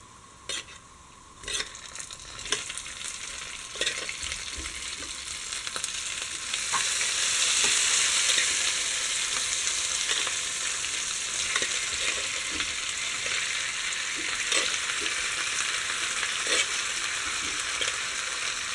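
Pre-cooked beef in a Kerala-style spicy fry sizzles steadily in a pan while being stirred, with scraping strokes cutting through a continuous hiss that grows louder halfway through.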